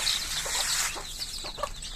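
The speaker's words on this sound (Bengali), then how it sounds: "সকালবেলা এসে দেখি বাচ্চাগুলো পুরো চিল্লাচ্ছে" Newly hatched native (deshi) chicks chirping loudly in a morning coop, with rapid high-pitched peeps and clucking from hens close by, steady and busy throughout.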